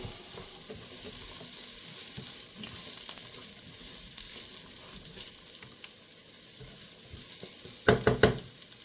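Onion sizzles steadily in a pan with a very small amount of oil, a constant hiss with occasional stirring scrapes and a few sharper clinks near the end.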